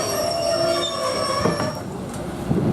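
A Class 50 diesel locomotive rolls into Dereham station with loud, sustained metallic wheel squeal and tonal screeching, plus rumbling and occasional clanks as it slows.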